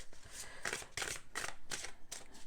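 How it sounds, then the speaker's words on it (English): Three decks of playing cards are shuffled in a steady series of crisp riffles, about six quick bursts in rhythm, close and clear with no talking. "So let's start shuffling them"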